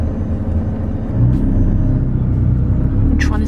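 Low rumble of a Porsche GT2 or GT3 in lizard green, a loud, close, steady engine drone with a brief higher sound near the end.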